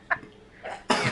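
A person gives two short coughs, a brief one at the start and a stronger, harsher one near the end, close by with no talk.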